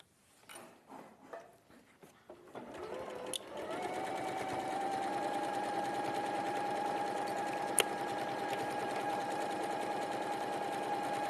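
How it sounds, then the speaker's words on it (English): After a few scattered clicks and handling knocks, a sewing machine starts up and runs in one long, even whir while stitching interfacing onto fabric, close and steady for several seconds. "and then I'm just going to sew that on"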